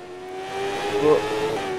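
A Moto2 racing motorbike engine in the video game MotoGP 15, a sustained tonal whine that swells and dips as the rider brakes, fairly loud and alone.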